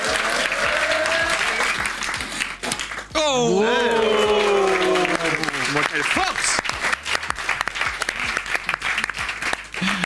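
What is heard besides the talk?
audience applauding someone sawing a branch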